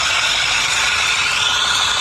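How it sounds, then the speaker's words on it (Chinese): A car engine with a faulty balance shaft runs close by, producing a steady loud mechanical drone with a faint rattling texture throughout and no speech. "平衡轴异响"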